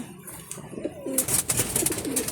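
A racer pigeon coos in a flying loft, soft repeated throaty calls close by, with other birds faintly around.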